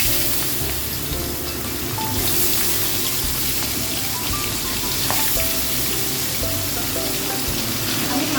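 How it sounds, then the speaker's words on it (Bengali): Tangra fish frying in very hot mustard oil, a dense continuous sizzle and crackle that stays loud and steady throughout with no talking. "তেল একদম গরম হয়ে গেছে। আমি এর মধ্যে এবার একে একে করে মাছগুলোকে ছেড়ে দেব।"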